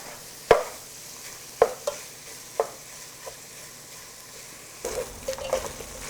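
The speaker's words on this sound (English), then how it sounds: "we got a nice sear going on here" Pork belly sears in a pot for chili, a soft steady sizzle broken by a few sharp knocks and scrapes of a utensil against the pan, with a denser burst of stirring near the end.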